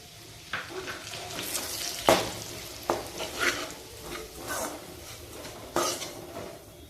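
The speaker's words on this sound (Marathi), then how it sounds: "आता त्यामध्ये मी 1 वाटी रवा चांगला भाजून घेणार आहे" Semolina roasts in hot ghee for prasad sheera while a spoon stirs and scrapes the pan, with sharp occasional metal clinks over a low, steady sizzle, close and quiet.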